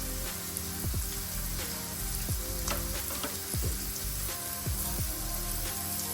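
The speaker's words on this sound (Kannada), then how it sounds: "ಇದು ಫ್ರೈ ಆಗ್ತಿದೆ" Steady close sizzling of food frying in a pan on a stove, continuous crackle with a few soft clinks of stirring, no voices.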